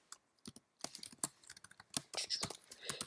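Fast, close clicking of keys on a computer keyboard while someone types code, with an irregular run of crisp taps throughout and no voice over it.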